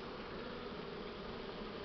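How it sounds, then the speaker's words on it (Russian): Continuous low buzzing hum of many Buckfast honey bees at an open hive in spring, steady and close, with no voices. "Вот. Вот пчелы тут."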